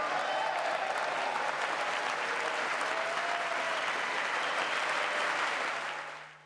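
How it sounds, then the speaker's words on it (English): A chamber audience gives loud, sustained applause after a line in Joe Biden's second State of the Union address, a thick, roaring wash of clapping that holds steady, then fades out over the final second. "Quite a thundering applause there"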